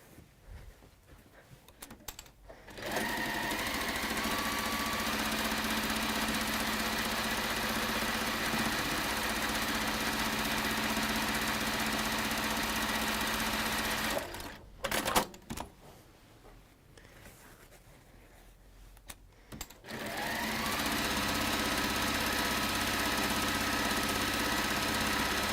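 A sewing machine stitches quilt patchwork in two long, steady, continuous runs, separated by a brief pause with a few small knocks, close and loud with no voices.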